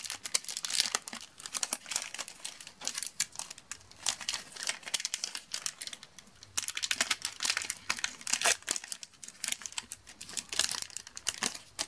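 A Power Rangers Mighty Morphin Series 2 trading card pack wrapper being torn open and crumpled, loud close crinkling in continuous uneven bursts.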